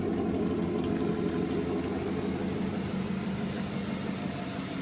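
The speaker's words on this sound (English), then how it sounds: "Try to get some sound clips of the exhaust" A 1994 Ford F150 pickup idling, its exhaust giving a steady, close, low rumble that holds evenly throughout with no voices.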